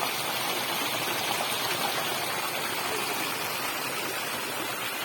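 A waterfall at Tunki Buru in Mayurbhanj, Odisha, gives off a steady, dense rushing hiss of falling water, constant and fairly close, with no talk over it.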